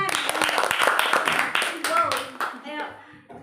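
A group performs the 'tepuk keren' clap, bursts of rhythmic hand claps mixed with lively chanting voices, fairly close and loud, tapering off near the end.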